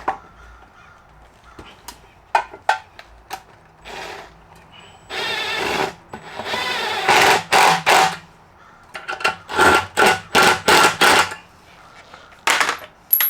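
A power tool tightening hose clamps on a CO2 laser engraver setup whirs in a series of short bursts, interspersed with clicks and metallic taps, fairly close and loud.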